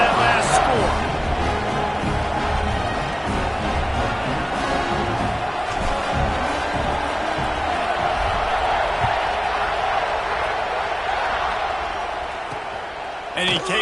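Crowd in a college football video game against Florida after a score, a continuous buzzing roar of cheering that stays loud and steady, then eases slightly near the end.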